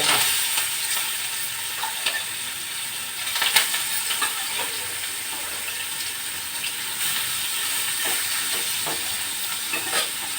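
Fish fries in hot oil in a home kitchen, a loud continuous sizzle and hiss with sharp spattering pops scattered throughout, close up and without talk.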